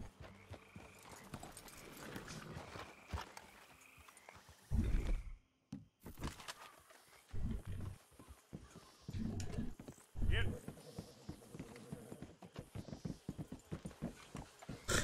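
Horses' hooves clip-clop in Red Dead Redemption 2, irregular clopping steps close by as the horses slow and stop, with short pauses and some talk over them.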